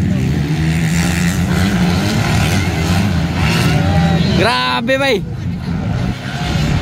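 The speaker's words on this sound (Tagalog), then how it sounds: "Lakas talaga ng mga motor nila." Racing 250cc motocross motorcycles at a 2025 motocross series event in Alanib, Lantapan, with engines droning loudly throughout and one bike's rising whine sweeping past near the end, while an excited commentator talks over it.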